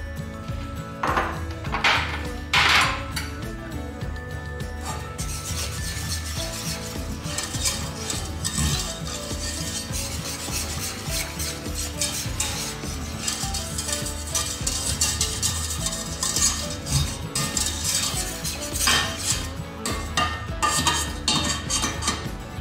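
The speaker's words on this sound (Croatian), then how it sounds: "Povremeno miješajte dok ne provrije" A spoon scrapes and clinks against a pot as white chocolate melts with other ingredients over heat, giving irregular metallic taps and scrapes over a steady low background rumble.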